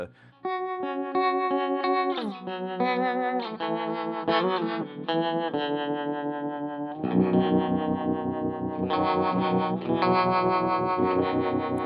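Electric guitar through a JHS 3-Series harmonic tremolo pedal, a series of sustained chords and single notes pulsing with a wavering, slightly uneasy up-and-down throb, played alone at steady level.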